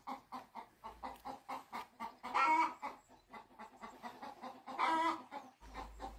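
Free-ranging hens cluck near a barn where they lay their eggs, a close run of short rhythmic clucks with two louder, drawn-out squawks partway through.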